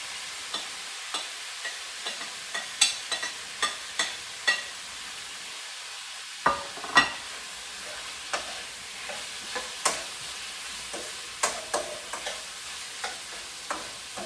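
Potatoes added to a pan with celery, crackling with a soft steady sizzle while a utensil stirs and scrapes in repeated clicks and taps, a louder burst midway as they hit the hot oil.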